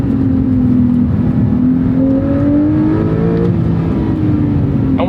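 A Porsche sports car engine drones steadily while driving on a road, its pitch slowly climbing and easing under load as a continuous, close, fairly loud hum with no voices.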